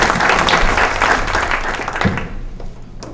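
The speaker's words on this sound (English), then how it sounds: "Let's give him a big round of applause." An audience at a mayor's community night in a high school claps for a city councilman, loud dense applause from a crowd that stays strong and then tapers off over about three seconds.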